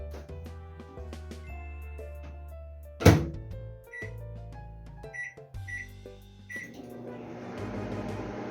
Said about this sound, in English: Finally, you put the mixture in the microwave for 2 minutes